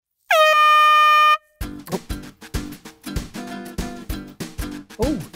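One loud, sustained air horn blast of about a second, then lively music with punchy beats and plucked notes.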